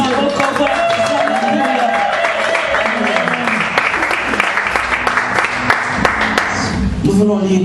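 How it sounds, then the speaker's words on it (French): A church congregation applauds and cheers in a steady, dense wash of clapping with raised voices mixed in, loud and sustained throughout. "Donne-moi encore les acclamations pour la gloire de Dieu."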